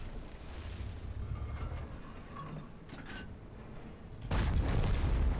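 A tank cannon fires in World of Tanks, a heavy boom near the end rising out of a steady engine rumble, with a few sharp clanks earlier.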